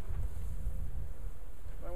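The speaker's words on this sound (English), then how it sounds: "I accidentally jarred loose a lot of bees." Honey bees from an opened hive during an early winter inspection swarm close by, a dense steady buzzing drone with rustling and handling noise, faint wind in the background.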